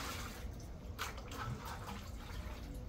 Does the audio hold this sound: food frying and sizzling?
no